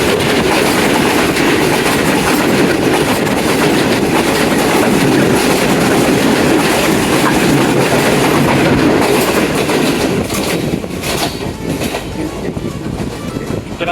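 The Islamabad Express railcar, led by locomotive 4566, runs on the Islamabad to Lahore line: a loud, continuous roar of wheels with steady clickety-clack on the rails, easing slightly near the end.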